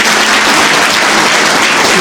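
Loud, dense applause from an audience at a farewell party, a steady wash of many hands clapping close by for two seconds, no voices.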